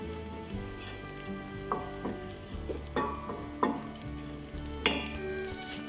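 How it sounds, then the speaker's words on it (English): Onions sweating gently in a pan for a fish pie, giving a soft, continuous sizzle broken by occasional clicks and taps of stirring, with no voices. "Onions sweating down nicely."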